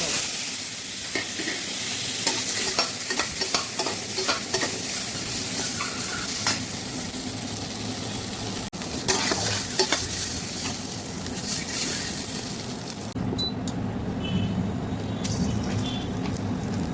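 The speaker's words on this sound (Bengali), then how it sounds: "আর এটা এখন ভেজে নিচ্ছি, আর ডিমটা ভাজে দেবো।" Egg sizzling steadily in a hot pan, with frequent scraping and clinking strokes as it is stirred, a continuous moderately loud fry throughout with no talking.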